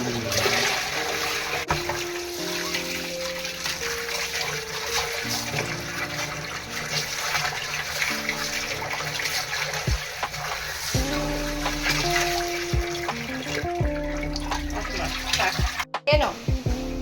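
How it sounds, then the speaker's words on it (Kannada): Fish is washed in water by hand with splashing, sloshing and trickling at close range, and a voice talks over parts of it. "ನೆಕ್ಸ್ಟ್ ವಾಶ್ ಮಾಡಿ ಒಂದು 5 ಟೈಮ್ ಚೆನ್ನಾಗಿ ವಾಶ್ ಮಾಡಿ ಸಾಂಬಾರು ಮಾಡುವ ಮುಂಚೆ"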